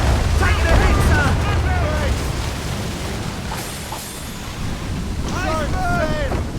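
Ship cannons firing from a sailing warship during a naval battle in Assassin's Creed Rogue, heavy booming volleys rolling over wind and sea noise, with shouted crew voices between the blasts.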